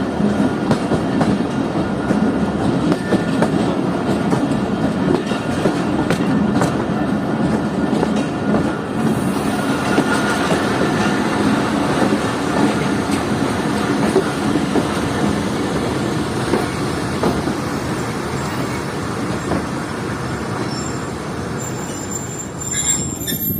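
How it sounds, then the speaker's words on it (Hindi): Jaffer Express passenger train rolling into Abe Gum railway station, steady loud rumble of wheels on track with metallic squealing and clatter throughout, no voices. "जाफर एक्सप्रेस इस वक्त पहुंच रही है आबे गम रेलवे स्टेशन पर"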